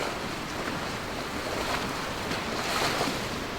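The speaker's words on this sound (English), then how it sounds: "Decent sized waves though." Broadband rush of ocean waves and surf with wind noise in the Sailwind sailing video game, steady and fairly loud throughout, swelling slightly toward the end with no talk.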